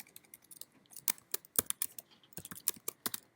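Keys on a computer keyboard click in quick, uneven bursts of close, crisp taps, with short pauses between runs.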